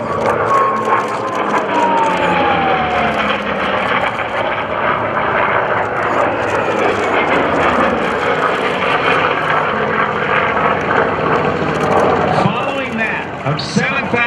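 A warbird's 2,000 horsepower radial piston engine, from a Vought F4U Corsair or Grumman F8F Bearcat, drones loudly and steadily overhead at an airshow, its throaty roar sustained throughout with a slight shift in pitch near the end.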